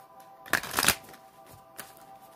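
Cards being shuffled in a couple of quick riffling bursts, close and crisp, with a fainter flick a moment later. No talking.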